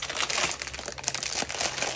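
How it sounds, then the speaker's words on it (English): Small glass seed beads poured into a handmade craft shaker, a dense, continuous close-up patter of tiny clicks and rattling for a couple of seconds without any speech. "Like these glass seed beads, and this is what's going to give us our rattling noise."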